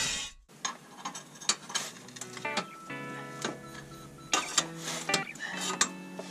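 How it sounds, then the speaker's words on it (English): Quick clicking bursts from a hand ratchet with a 15 mm socket loosening bolts on a rear differential and drive shaft install, several separate runs of ratcheting with brief pauses between. "I'm gonna loosen these and see if I can't move it up"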